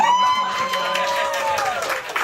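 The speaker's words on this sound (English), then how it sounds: "Let's clap for him." Brief burst of audience clapping and murmuring crowd noise at a comedy reaction show, with a voice speaking over the top.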